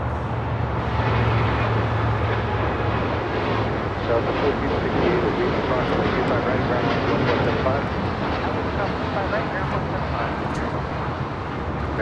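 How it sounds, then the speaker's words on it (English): A United Airlines Boeing 787-10 Dreamliner on its takeoff roll from LAX runway 25 right, a loud broad jet-engine roar that holds steady throughout, with a voice talking over it. "another heavy about to take off on 25 right. United Airlines Flight 32 heading to Tokyo, Narita, 787-10 Dreamliner"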